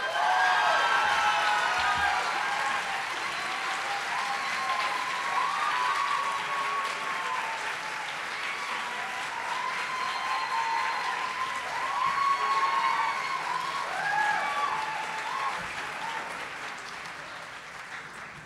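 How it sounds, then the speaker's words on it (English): Audience applause at a journalism day ceremony as a Master of Arts award winner is called up, continuous clapping with scattered cheers and whoops, swelling and fading over a long stretch. "You can clap him up."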